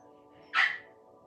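A dog gives a single short, fairly loud bark or yelp that rises out of a steady low electrical hum and fades quickly.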